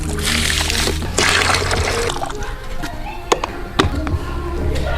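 Water pouring and trickling as a Xiaomi robot vacuum's water tank is filled, a steady splashing flow with a few sharp clicks near the end.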